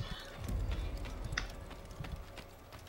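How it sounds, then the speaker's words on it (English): Horse hooves clopping in Assassin's Creed gameplay, a steady run of soft thuds with a brief whinny-like cry partway through, set against busy in-game ambience. "This is our horse."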